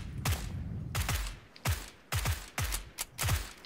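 Single-fire gunshots in the video game PUBG on Xbox One, six sharp, loud reports spaced roughly half a second apart with brief ringing tails and no talking.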